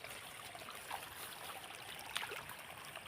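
Water trickles faintly as a rice paddy is drained, a soft steady stream with low background hiss and a couple of small splashy peaks.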